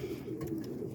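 A racing pigeon cock bird coos, a low soft throaty burble close by and continuous through the moment, with no talking.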